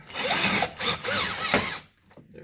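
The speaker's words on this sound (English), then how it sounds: "if you got a cordless drill, it works a lot faster." Cordless drill drives screws into an AC unit panel in short bursts, three or four whirring runs with brief pauses, close and loud, ending in quiet.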